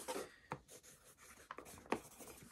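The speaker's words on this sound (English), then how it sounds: "So I'm just going to write down." A pen writing notes on paper, a few short scratchy strokes close by and quiet, with brief pauses between them.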